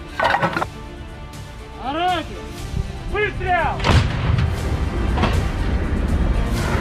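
Heavy booming blasts and rumbling artillery fire from the Russia–Ukraine war in Russia's Kursk region follow a few warbling tonal calls, the low roar lingering steadily to the end.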